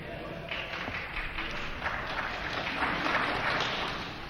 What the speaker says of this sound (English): Look, please don't clap